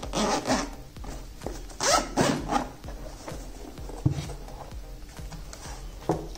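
The zipper on a reinforced pouch holding a GoPro Hero 9 Black is pulled open in several short, rasping zips, with soft rubbing and handling sounds between them, close up.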